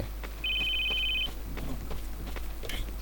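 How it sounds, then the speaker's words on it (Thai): A telephone rings in the Roblox horror game Ophelia Chapter 1: one steady electronic ring lasting just under a second, clear and close over a low background hum, with faint game sounds after it. "เสียงโทรศัพท์ใคร"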